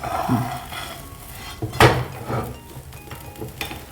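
A spatula scrapes and clanks against a pan while a methi chila is turned over to crisp the second side, with one sharp metallic knock in the middle and soft sizzling between.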